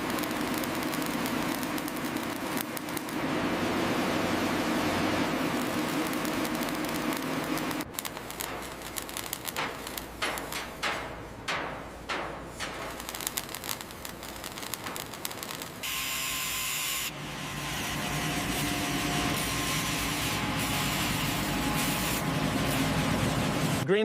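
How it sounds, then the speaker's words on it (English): Welding on the hull of an abandoned ship under restoration: a steady, loud, hissing roar with broken crackling bursts midway, then a continuous harsh hiss again. "Begin welding."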